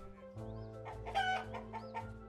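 Chicken clucking in the farming video game Summer in Mara, a short series of close, clear clucks over a soft steady musical backdrop, with a higher chirp near the start and end.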